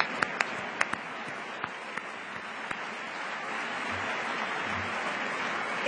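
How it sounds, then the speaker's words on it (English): Applause from lawmakers in the House chamber, a steady broadband wash of many hands clapping throughout, with a few sharper individual claps near the start. "So let us again applaud our constituents."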